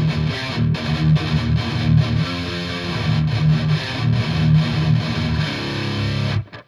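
Mixed electric guitar recording with distortion and chorus effects played back, a dense continuous stretch of strummed chords with a steady rhythm that cuts off at the end.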